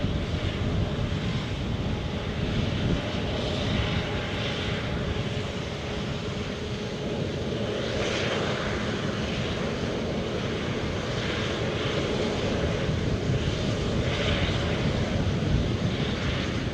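A British Airways airliner on an inaugural flight passes at Edinburgh airport, a broad steady jet roar with wind buffeting the microphone and no clear voices.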